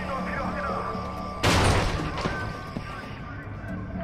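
Explosion and gunfire in the video game Homefront: a sudden loud blast bursts in midway, then rumbles and crackles with scattered shots fading under continued game noise and background voices.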